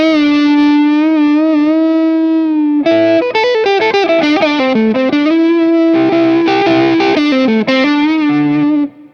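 A Stratocaster electric guitar with its volume knob rolled back plays a held note, then a run of phrases with a mild, slightly gritty overdrive tone, up close and without speech.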